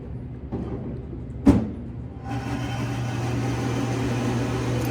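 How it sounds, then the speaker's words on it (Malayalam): A cafe mixer starts up after a sharp knock and then runs as a steady, fairly loud droning whir to the end, with quieter room noise before it begins. "ഇത് ഞാൻ കുടിക്കുന്ന സൗണ്ട് അല്ല കേട്ടോ, അത് അവിടുത്തെ മിക്സിയുടെ സൗണ്ടാണ്"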